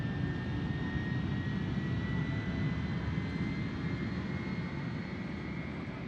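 Jet engines roar steadily through a takeoff roll in a flight simulator video game, a loud, dense, continuous rumble with a faint high whine on top and no talking.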